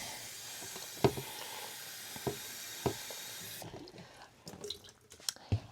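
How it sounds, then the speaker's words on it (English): Water runs from a sink tap over Pro Mix potting mix, a steady hiss with a few soft drips and splashes, then the flow stops and quieter handling noises follow. "I'm just going to wet this in the sink for a little bit."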